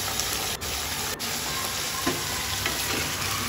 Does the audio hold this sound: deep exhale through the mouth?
no